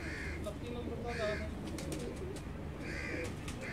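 Soft pigeon cooing comes in a few low, rounded bursts over a steady background murmur, with faint bird sounds scattered around.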